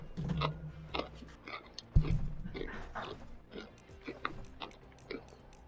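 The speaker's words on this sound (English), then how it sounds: "stop chewing like a damn cow" Loud, wet open-mouthed chewing close to a headset mic during a Fortnite gaming session, rhythmic smacking bites repeating throughout with a sharp thump near the middle.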